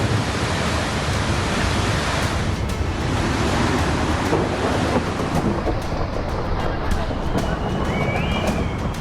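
The swollen Tawi river in Jammu and Kashmir floods past in a dense, continuous roar of rushing water, loud and unbroken, with a voice speaking faintly beneath it.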